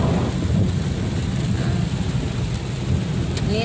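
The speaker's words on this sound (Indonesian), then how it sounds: "Hujan lebat, guys." Heavy tropical downpour near an airport with rumbling thunder, a dense constant roar of rain filling the whole stretch, loud and close, with a faint vehicle passing in the background.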